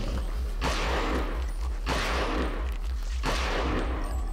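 Three heavy shotgun blasts from the video game Eternal Darkness, evenly spaced, each a loud close boom with a long decaying tail over a constant low game hum.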